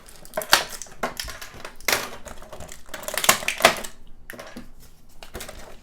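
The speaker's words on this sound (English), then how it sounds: "Let's just take everything out of the packaging." A G.I. Joe Gung Ho action figure is pulled from its packaging, giving close, irregular plastic crinkles, clicks and rustles in short bursts with brief pauses.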